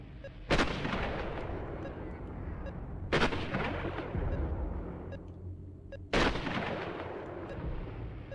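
A sniper rifle firing in the shooter game Warhammer 40K Fire Warrior: three loud, sharp shots spaced a few seconds apart, each followed by a rumbling echo that fades under steady background noise.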